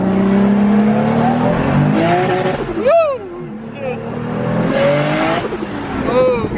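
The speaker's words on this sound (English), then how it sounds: "we're gonna go ahead and romp on his car real quick just to show you guys what this thing's got" A car launches hard with its tires spinning, a loud revving engine that swoops up and down, with bursts of tire squeal and people talking over the noise inside.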